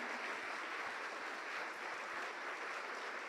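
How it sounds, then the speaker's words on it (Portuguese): Church congregation applauding steadily, a dense, sustained wash of many hands clapping throughout, loud and continuous with no pauses. "Mas aplauda de verdade."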